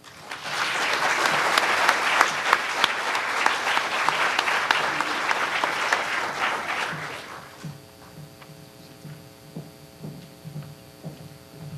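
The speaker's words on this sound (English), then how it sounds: "Let's give all the kids another round of applause" Audience at an elementary school awards ceremony applauding the children, loud full clapping for about seven seconds that then thins out, with a low electrical hum showing underneath.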